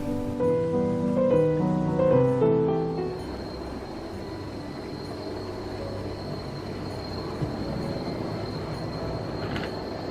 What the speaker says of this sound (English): Now the little loco is coupled up to a 3-coach Maunsell coach set